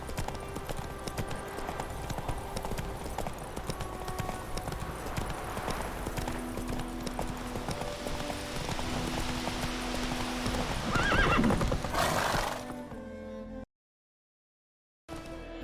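Roach the horse gallops and neighs in The Witcher 3: a rapid, steady clip-clop of hooves runs close and loud, with a whinny rising late before the sound drops away to brief silence.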